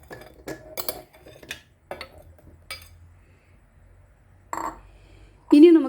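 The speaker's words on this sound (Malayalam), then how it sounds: "അരിഞ്ഞെടുത്ത മാങ്ങ നമുക്ക് മിക്സിയുടെ ജാറിലേക്ക് ഇടാം." Chopped mango pieces dropped into a mixer grinder jar, giving a few sparse clinks and soft knocks spread across several seconds, close by, with a short burst of voice near the end.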